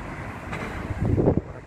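Wind blows through fog in Vila Assunção, Santo André, São Paulo, near the Serra do Mar, making a steady low rumble that buffets the microphone and swells into gusty bursts toward the end.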